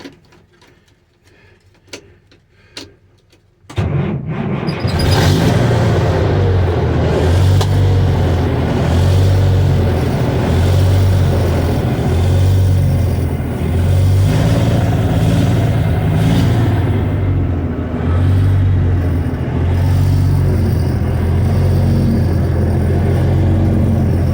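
After a few faint clicks, an old tractor engine at an auction yard starts and idles loudly and steadily, a low throbbing rumble continuing to the end.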